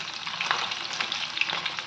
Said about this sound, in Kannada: ಈಗ ಪನ್ನೀರನ್ನ 2 ಸೈಡ್ಸು ಶಾಲೋ ಫ್ರೈ ಮಾಡ್ಕೊಳ್ತಾ ಇದ್ದೀನಿ